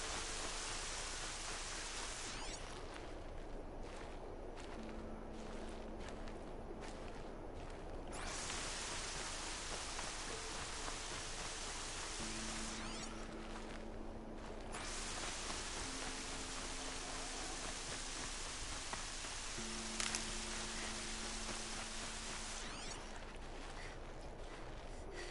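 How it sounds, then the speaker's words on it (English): Continuous rain pours in a steady hiss for the whole stretch in the video game Horizon Zero Dawn, with faint intermittent musical tones drifting underneath. "Sad about is this rain is killing my visibility."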